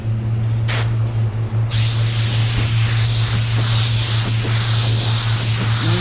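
A spray gun lays down a second coat of water-based paint in two-tone work, a loud continuous hiss with brief breaks early on, then steady spraying with a constant low hum underneath.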